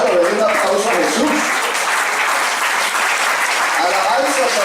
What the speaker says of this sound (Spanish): le doy un aplauso a Jesús.